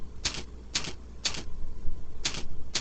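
Typing on a computer keyboard, heard as four short bursts of key clicks spaced about half a second apart, fairly close and alone over a low steady background hum.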